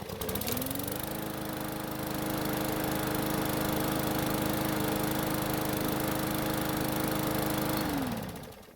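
A hot Yard Machines lawn mower engine starts quickly and settles into a steady, loud running drone with a small engine's buzzy harmonics, holding an even pitch before cutting off at the end.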